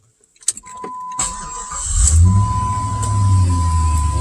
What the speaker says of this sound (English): Let's see if it'll start without getting in it.